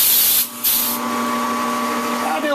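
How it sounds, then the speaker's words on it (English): Compressed air from a hose hisses loudly down the muzzle of a hunting rifle barrel to blow metal chips out after chamber cutting, a steady broad rush with one brief dip near the start. "We'll come right up here on this end and just blow air down the muzzle."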